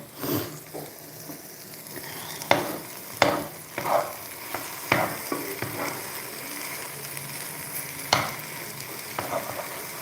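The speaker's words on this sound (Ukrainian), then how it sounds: "трошки поперегортаємо, щоб яйця у нас гарно підсмажилися" Eggs with vegetables frying in a pan, a continuous low sizzle broken by scattered clicks and scrapes of a utensil turning the food, close and moderately quiet.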